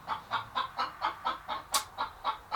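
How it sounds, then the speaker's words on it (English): Backyard chickens beside a homemade nesting box cluck in a steady, rhythmic run of about ten close, evenly spaced clucks, one sharper squawk mixed in. "The chickens are going off."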